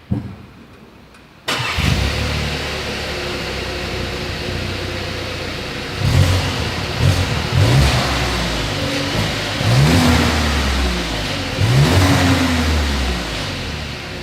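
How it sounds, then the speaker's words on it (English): A 2024 Volkswagen Tiguan engine starts, idles, then revs up several times through the exhaust, each rev rising and falling back, close and loud with no talking. "As always, here is that exhaust clip."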